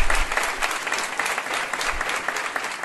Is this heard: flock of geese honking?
no